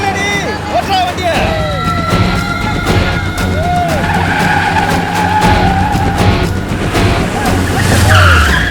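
A car pulls away with loud, continuous tire squeal and skidding under a roaring engine, sustained across the whole stretch.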